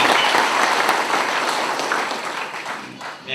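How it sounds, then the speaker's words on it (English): A rally crowd claps steadily and densely, loud and sustained, the applause tapering slightly toward the end. "give yourself an applause for that great spirit"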